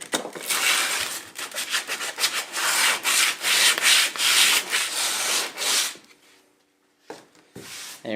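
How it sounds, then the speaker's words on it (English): Sandpaper rubs rapidly back and forth over a kayak hull in short, rhythmic scrubbing strokes, loud and close, then stops briefly before a few more strokes at the end. "rough up this area here with some sandpaper"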